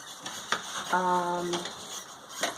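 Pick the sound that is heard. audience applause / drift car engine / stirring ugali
stirring ugali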